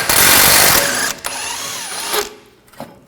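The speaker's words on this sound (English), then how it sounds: "Take an 18mm socket, take this bolt out" An impact or power tool whirs loudly for about a second with an 18mm socket on a bolt of a 2009–2013 BMW 328i xDrive rear upper control arm, then spins down into quieter mechanical rattling and a brief clunk.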